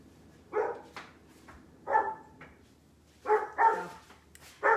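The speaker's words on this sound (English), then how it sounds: "that's why my dog's going crazy" A dog barks at a delivery person arriving at the house, several sharp, fairly loud barks in irregular bursts with short quiet gaps between them.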